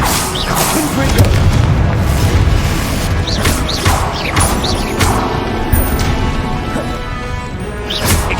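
Repeated booming blasts from the Confringo fire spell in the video game Hogwarts Legacy, loud crashes and bursts recurring every second or so amid battle noise.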